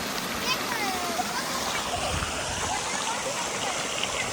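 Water from a stream at a farm flows and splashes steadily with a broad, constant rush throughout, close by, while children's voices murmur faintly in the background.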